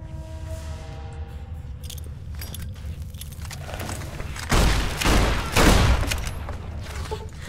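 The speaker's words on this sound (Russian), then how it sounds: "Вот это взрыв был." Explosions in the video game Fallout: New Vegas, with two heavy booming blasts after a stretch of quieter game noise and scattered clicks, the second blast as loud as the first, with no talk.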